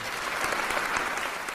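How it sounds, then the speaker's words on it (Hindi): Dense, loud applause comes from a crowd at a Hindu religious discourse gathering, a brief, continuous burst of many hands clapping together. "आज गुरुजी के लिए जोरदार ताली बजाना चाहिए"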